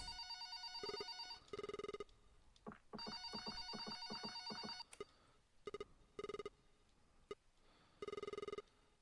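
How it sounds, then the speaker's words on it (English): Telephone bell ringing in the Xbox One horror game Red Bow, repeated electronic ring bursts separated by short pauses, fairly clear against a quiet background with no talk. "Telephone's ringing top left."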